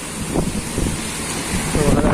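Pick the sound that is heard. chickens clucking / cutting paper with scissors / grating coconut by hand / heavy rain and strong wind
heavy rain and strong wind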